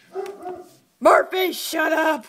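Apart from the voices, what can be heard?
dog barking at the neighbors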